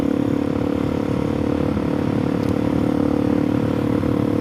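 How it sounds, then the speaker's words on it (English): DRZ 470 Stroker motorcycle engine just off throttle, a loud continuous close-up engine drone with faint uneven sputtering under it. "If you can hear the kind of sputtering when I'm just in the middle points"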